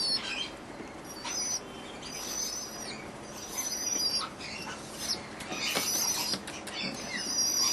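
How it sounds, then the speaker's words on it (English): A pigeon chick begs for food, beating its wings in soft fluttering bursts with thin, squeaky high-pitched calls, faint and close, with no talking. "And that's how they hassle the parents for food. They just they wing beat."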